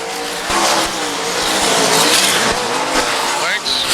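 Stock cars race around an oval track in an All Star event, their engines roaring loudly as they pass close by and tires squeal, while a commentator talks over the racing.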